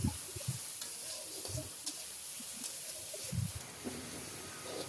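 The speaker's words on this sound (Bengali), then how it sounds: "এখন রসুন আর পেঁয়াজটাকে হালকা বাদাম কালার করে ভেজে নিচ্ছি" Garlic and onion, along with dried chillies and green chillies, frying in oil in a pan for a radish-greens bhaji, giving a steady soft sizzle with intermittent stirring scrapes and clinks throughout.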